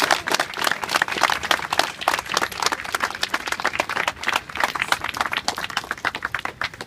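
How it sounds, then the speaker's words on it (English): A crowd at an outdoor rally against a badger cull claps after a speech, giving a steady patter of many hands up close that carries on without a break. "Big round of applause."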